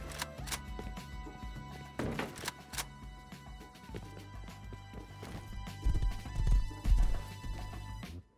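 Horse hooves clip-clopping in the survival video game Rust, a run of quick, fairly close hoofbeats with some heavier thuds and impacts, over a steady game background hum.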